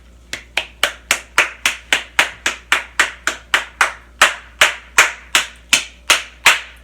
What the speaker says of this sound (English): Give me that clap.